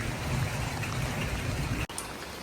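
Heavy storm rain pours down on a village road in a steady, loud, hissing wash, broken by a sudden brief cut near the end before resuming.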